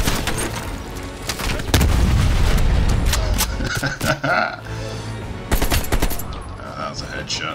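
Gunfire in Call of Duty: Black Ops Cold War, with loud repeated shots and booming blasts in rapid bursts, close and dense, over a rumbling game background.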